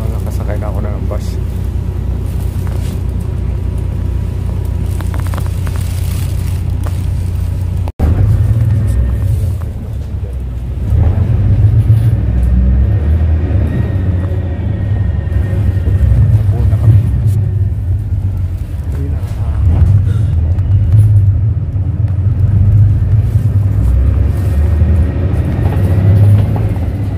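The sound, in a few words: riding inside a bus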